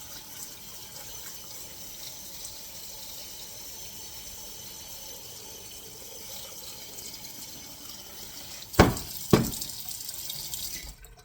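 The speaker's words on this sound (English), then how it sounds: "Now fill the water up 1 inch above your potatoes." Tap water runs into a pot of chopped potatoes for shepherd's pie, a faint steady stream in a quiet kitchen, ending with two sharp louder splashes or clunks near the end.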